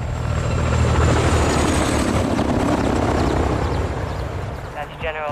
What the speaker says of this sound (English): Got a heli incoming.